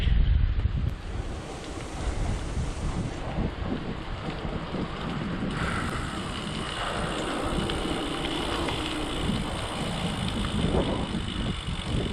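Steady, roaring wind buffets the microphone for the whole stretch, with a broad rushing noise and low rumbling gusts and no voices.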